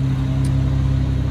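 A race car engine idles steadily and loudly nearby, a deep constant drone with strong low harmonics, filling the short moment without any voices.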